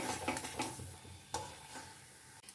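Patol dorma filling being sautéed in a pan, with a steady soft sizzle and scraping stirs from a spatula sounding in bursts throughout, close by and with no voices.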